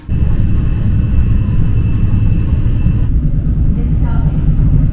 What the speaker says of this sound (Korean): 연착하는 열차가 들어오고 있습니다.